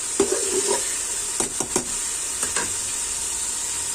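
Masala frying in ghee while being cooked for beef trotters paya, with a constant hiss and a few scraping stirs of a spoon near the start and middle.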